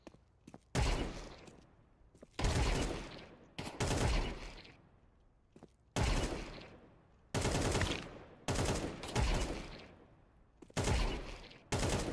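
Bots firing in Counter-Strike 2: about eight sharp, loud automatic bursts, each a second or so long, separated by short quiet gaps.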